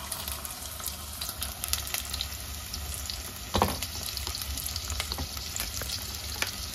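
Chicken wings deep frying in oil give a dense, steady crackle and sizzle close by, with a brief louder bubbling burst midway and no talk.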